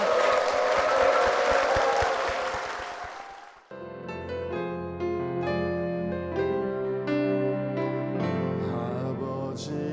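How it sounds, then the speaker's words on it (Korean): An audience in a church claps in a dense burst for about four seconds, then the applause cuts off as music begins. "두 분께 다시 한번 힘찬 박수 부탁드리겠습니다."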